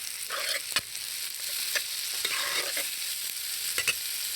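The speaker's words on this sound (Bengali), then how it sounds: "মাংসটা দিয়ে ভালোভাবে ভেজে নেব।" Marinated meat frying in oil left from cooking eggs, a steady sizzle with a few sharp stir clicks of a utensil against the pan throughout, no talking.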